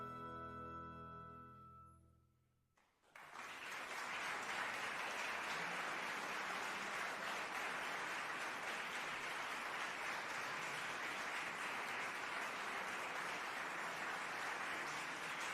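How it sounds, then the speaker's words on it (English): A round-of-applause sound effect plays on a live stream of a strategy game, rising into a steady, full wash of clapping and cheering that continues alone at an even level. "Thank you, chat, for the round of applause."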